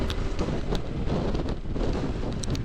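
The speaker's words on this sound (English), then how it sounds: "she's getting windy up here" Strong wind buffets the microphone on a road trip, a steady loud roar with gusty rumble and no speech.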